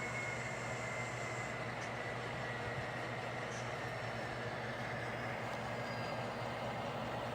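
Steady rumble and hum from model train engines on a layout yard, with a faint coupling clank as the engines join a cut of cars, continuous and fairly quiet with no talk.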